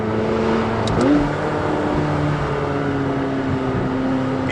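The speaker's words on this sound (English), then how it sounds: "You just keep changing up and down a lot just to hear the gear change in the revving" A McLaren 570S Spider engine drones steadily, with a quick rise and dip in pitch around a gear change, then settles into a continuous hum at close range.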